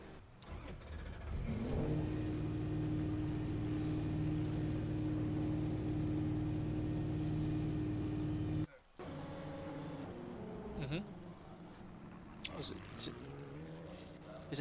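Race car engine revving loudly in a GTE Pro qualifying session of a racing video game, a steady sustained drone that cuts out abruptly, then resumes rougher with rising and falling revs while a voice talks over it.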